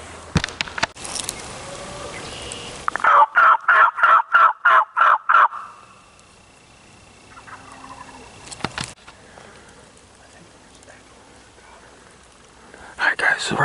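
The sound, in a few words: wild turkeys gobbling in spring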